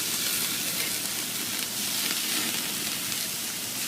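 Chicken sears on a grill for fajitas, producing a continuous, even sizzle with a bright crackling hiss that stays steady and close, without any talking.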